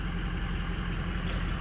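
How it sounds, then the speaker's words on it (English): Ford Excursion with a 6.0 Power Stroke diesel engine, not yet warm and with a miss, idles steadily with a low, continuous rumble heard close up. "I just started it up, but had it idling for maybe a minute"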